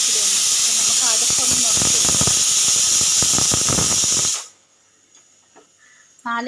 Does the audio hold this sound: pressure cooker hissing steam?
yes